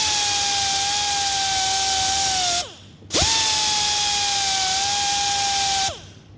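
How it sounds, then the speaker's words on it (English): Power tool deburring and radiusing the edge of a bolt hole on a small-block Chevy 350 connecting rod: a steady high-pitched whine in two long bursts, each winding down, with a brief restart between, close and loud, no talk. "I'm just breaking the edge and putting a nice radius on it."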